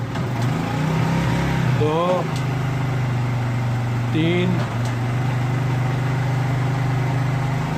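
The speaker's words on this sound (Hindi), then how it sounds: "दोबारा हम आपको चेक करा देते हैं स्टार्ट करके मोटरसाइकिल को।" A Honda CD 70 motorcycle engine idles steadily at a low, even pitch for the whole stretch, close by, while someone speaks over it and counts aloud.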